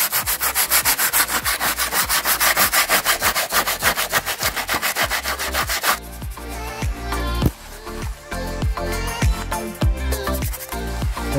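Scrubbing and cleaning cast iron engine parts on a Case 580G backhoe during a water pump and radiator replacement: steady, rapid back-and-forth rubbing strokes, loud and close, continuing throughout.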